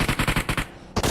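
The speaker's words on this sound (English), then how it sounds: "Mid-explosion just now, a bit overcooked on that hand grenade" A rapid burst of loud game gunfire, then a short gap and a final hard blast, in a PUBG Mobile esports league match where a hand grenade goes off around a compound wall.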